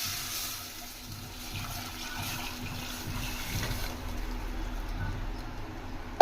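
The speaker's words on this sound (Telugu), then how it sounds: "నేను ఇందాక తీసి పెట్టుకోనుల్లా ఈ రాగి నుంచి తీసిన పాలు ఇవి వేసుకుందాం" Ragi milk pours into a heated pan, a soft, steady liquid stream running a few seconds alone at close range with a low background hum.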